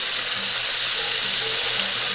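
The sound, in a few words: stirring and sautéing vegetables in a Dutch oven over fire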